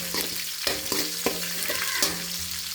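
Mustard seeds, fenugreek, cumin, onion and curry leaves sautéing in oil for sambar, a continuous close sizzle punctuated by several rhythmic spatula scrapes against the pan.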